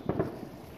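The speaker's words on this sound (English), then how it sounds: "Yeah, I hear the fireworks." Two muffled booms of fireworks in quick succession, distant and low, followed by a faint rumbling tail in the open air during a solar eclipse totality.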